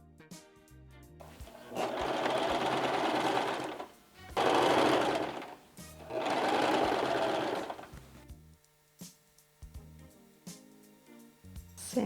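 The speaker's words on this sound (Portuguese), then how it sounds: "Vou costurar a pala no franzido." A sewing machine stitches a yoke onto gathered fabric in three loud, sustained whirring bursts, separated by brief pauses filled with quiet handling and clicks.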